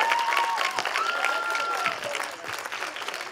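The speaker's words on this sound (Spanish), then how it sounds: "Un fuerte aplauso," Audience applause at a book presentation during a book fair, sustained clapping at steady loudness that tapers slightly toward the end, with a faint whistle-like tone over it.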